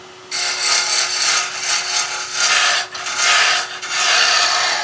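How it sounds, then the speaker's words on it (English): Wood turning on a lathe with a roughing gouge shaping a small Christmas tree, giving a loud, continuous rasping cut with brief dips as the tool shifts, with no voices. "I'm using the roughing gouge just to do its job."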